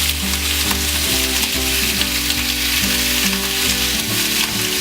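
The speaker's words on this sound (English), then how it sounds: "Put a pork belly into a heated pan." Thin slices of pork belly sizzle loudly in a heated pan, giving a continuous frying hiss with crackles, under steady background music.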